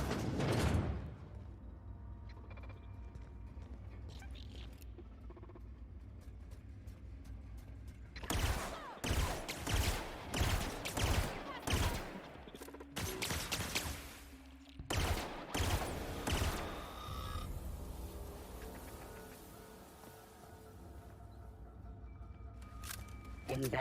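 A burst-fire rifle in The Outer Worlds fires clustered rapid bursts of sharp gunshots in two loud volleys amid quieter ambience, with a voice talking between shots.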